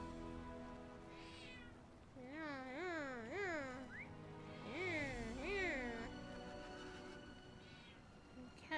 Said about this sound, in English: Cat is being a howly boy.